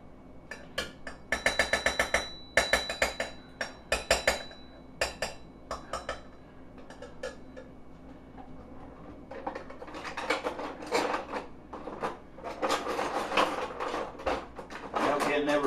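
Metal cutlery clatters and jangles as a drawer is rummaged in search of spoons. Bursts of close, bright clinking come in irregular clusters, pause, then return as denser rattling.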